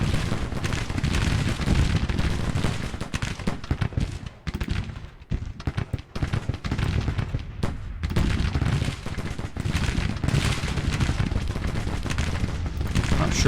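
Dense Civil War musket and artillery gunfire from the Grand Tactician strategy game, a loud, continuous crackle of volleys with brief dips before the firing swells again.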